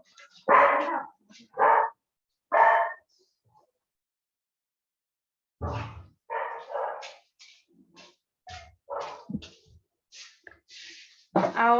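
A pet dog barks in a few loud, close bursts, with some whimpering, inside a home during an online math lesson; a short silence follows, then scattered voices and further yelps.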